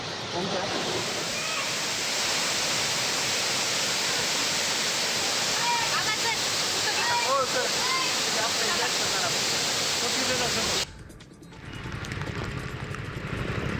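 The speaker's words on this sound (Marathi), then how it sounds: "रामलिंग धबधबा ओसंडून वाहू लागला" Roaring, rushing water from the Ramling waterfall in full monsoon flow fills the scene as a steady, dense wash of noise, briefly cut short near the end.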